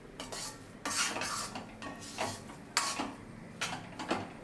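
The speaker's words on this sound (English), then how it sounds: "Let it cook and saute in the sugar syrup for about 5 minutes on low flame." Motichoor boondi being stirred in sugar syrup in a pan over a low flame, with a metal spoon clinking and scraping against the pan in several irregular bursts, close and fairly loud, with no voices.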